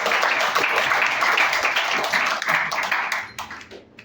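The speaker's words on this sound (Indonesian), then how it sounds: "Tepuk tangan loh." A church congregation clapping hands during a sermon, a brisk mass of claps from many people, loud at first and tapering off near the end.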